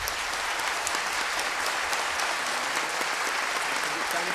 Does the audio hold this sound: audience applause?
yes